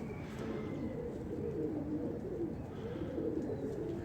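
Pigeons coo softly and continuously in a low, rolling murmur, faint and close, with no talk over it.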